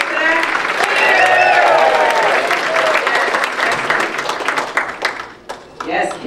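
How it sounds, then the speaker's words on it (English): A community dinner crowd claps and cheers loudly together, a dense burst of applause with whoops that swells, then thins into scattered claps and talk near the end. "Can I get a cheer for that?"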